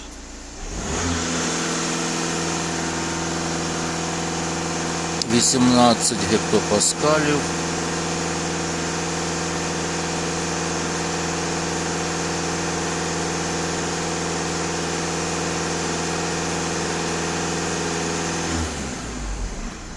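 A Volkswagen diesel engine with a rich-mixture fault signal runs steadily at raised revs, a constant droning hum with a brief surge partway through, while someone speaks briefly over it.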